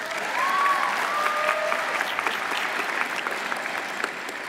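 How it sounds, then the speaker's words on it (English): Graduates and audience at a 2023 Phoenix high school graduation ceremony applaud in a steady, full crowd clapping that carries on evenly from start to finish. A brief whistle or cheer stands out early on. "So give a round of applause to yourself"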